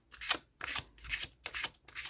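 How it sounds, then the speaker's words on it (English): New Crow Tarot cards being shuffled by hand in four quick bursts of riffling and rubbing, each separated by a brief pause, close and clear with no talking. "Let's try a shuffle."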